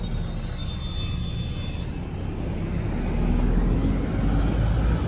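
Steady engine rumble and road noise from inside a truck pulling away from a hotel in the morning, continuous and close, swelling slightly toward the end.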